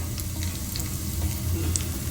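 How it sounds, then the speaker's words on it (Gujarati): Tempering for kadhi: mustard seeds, cumin, curry leaves, bay leaf, dried red chilli and asafoetida sizzle in hot oil with a steady, fairly soft crackle and tiny pops throughout. "અહીંયા આપણે વઘાર થાય છે"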